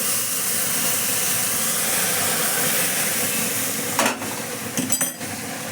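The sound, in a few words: milk boiling with roasted semolina in a pan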